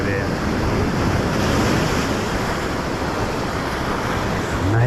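Ocean surf crashes along the rocky Acadia coast in Maine, a loud continuous roar of breaking waves mixed with gusting wind buffeting the microphone, sustained and close with no clear speech.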